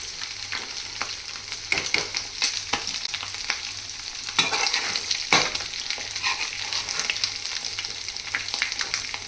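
Dried fish and brinjal frying in a pan, a steady close sizzle with occasional scraping stirs and clatters of the utensil, no talking.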